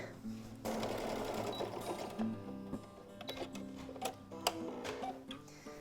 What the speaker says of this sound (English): we're just going to sew very, very close to this edge